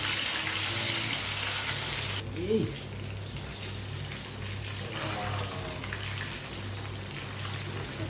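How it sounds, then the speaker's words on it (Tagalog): Steady crackling sizzle of flathead fish frying in hot oil, continuous throughout, with a low hum and a faint voice briefly underneath. "So, prito natin guys."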